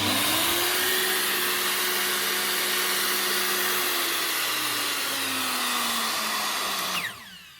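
A Makita RP2303FC router mounted in a Trend router table runs at a steady high-pitched whine, its tone sagging slightly midway, before the motor winds down near the end.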